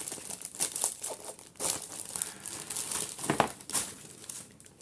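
A Bridgerton subscription box is opened and unwrapped, with close, continuous crinkling and rustling of paper or plastic wrapping in uneven bursts, no talk.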